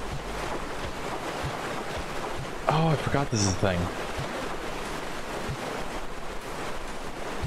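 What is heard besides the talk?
splashing water and waves in the video game Owlboy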